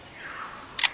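Lyrebird mimicking a camera shutter, a single short crisp click-whir burst near the end of a quiet clip, heard close and alone.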